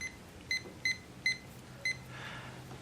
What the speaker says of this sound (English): the first thing I want to do is I want to start my timer